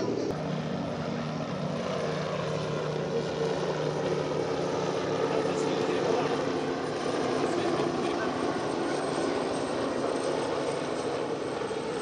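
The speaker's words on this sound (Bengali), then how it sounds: "এরপর রয়েছে দুটি বেল 206 ও একটি KW-11 হেলিকপ্টারের একটি বিগ আকৃতির ফরমেশন" Two Bell 206 helicopters and a KW-11 helicopter fly in formation at an air force parade, making a steady, continuous engine and rotor drone from start to finish.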